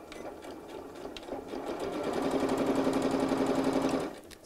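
Nearby sewing machine stitching the lining of a purse with a sew-in frame, a fast, even whirring run that builds and holds for a couple of seconds before stopping abruptly.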